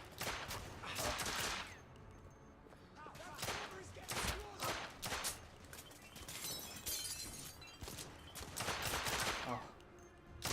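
Gunfire in The Order: 1886, a video game set in an alternate Victorian London, with sharp, loud bursts of automatic shots and shattering glass coming in several volleys, and someone speaking between them.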